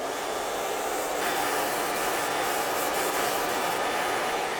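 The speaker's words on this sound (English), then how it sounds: "grab your hair dryer, and then blow dry up." A hair dryer blows steadily at close range while blow-drying hair, a continuous breathy whoosh with slight shifts as it moves, no voices.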